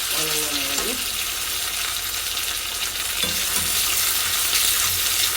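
Small onions fry in coconut oil in a pan with a constant loud sizzling hiss, close by, with faint low utensil sounds and a voice underneath.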